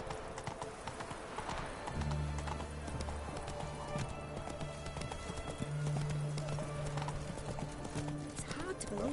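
Horse Roach gallops in The Witcher 3, a steady clip-clop of hooves running through the whole stretch amid game music and ambience, with a low drone and occasional talk over it.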